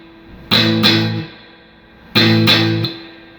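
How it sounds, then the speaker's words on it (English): An electric guitar with distortion hits two quick power chords, then the strings are muted by hand so the sound cuts off, and the pattern repeats once, loud and close. "All right, just kind of touching the strings just to mute them."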